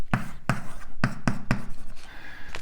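Chalk tapping and scraping across a board as an equation is written out, a series of sharp, close strokes coming in an uneven rhythm with short pauses between them, with no voices.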